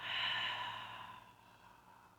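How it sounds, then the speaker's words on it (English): A single long, slow exhale through the mouth, close and soft, loudest at the start and trailing off gradually as a calming breathing exercise continues. "taking a long, slow, big belly breath in, holding it for as long as it's comfortable, before breathing out through the mouth"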